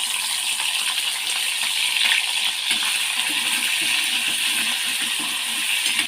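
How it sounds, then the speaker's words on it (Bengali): Prawns sizzle steadily in hot mustard oil in a wok, a dense, continuous hiss with scattered small crackles and pops, heard up close with no talking. "এখানে চিংড়ি মাছগুলো দিয়ে দিচ্ছি।"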